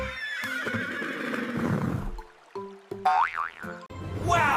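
A cartoon zebra whinny rings out as a bright, wavering neigh with boing-like sound effects and short musical tones, loud and close, with no talking over it.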